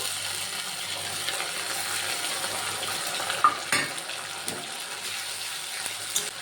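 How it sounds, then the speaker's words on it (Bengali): Onion paste frying in a pan for a hilsa fish curry, a soft steady sizzle with scraping stirs and a few clinks of the spatula near the middle, close and without talk. "পেঁয়াজ বাটাটা দিয়েও একটু রান্না করে নেব"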